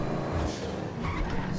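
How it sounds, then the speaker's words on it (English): A turbocharged car engine in Grand Theft Auto V roars as a steady, dense drone with road noise, loud and continuous throughout. "Listen to that sound of that engine."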